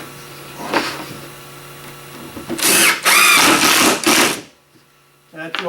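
A power drill drives pocket screws into a walnut joint in bursts, a long loud whir near the middle after quieter shop noise, with a short final spin at the end.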